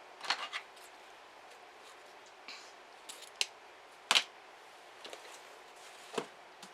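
Scissors cut ribbon while making a stacked bow, a few sparse, sharp snips and clicks spread over a quiet background, close up and with no talking.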